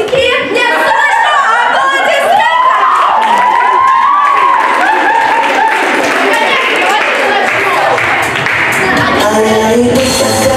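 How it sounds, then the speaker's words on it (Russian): A concert audience cheers and claps, with loud crowd shouting, children's excited voices and scattered applause building into a dense, continuous roar. "Аплодисменты!"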